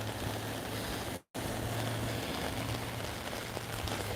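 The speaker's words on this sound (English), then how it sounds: "Getting more heavier downpour." A heavy rain downpour during Hurricane Ian hisses steadily and densely on surfaces, loud and continuous, with one brief dropout partway through.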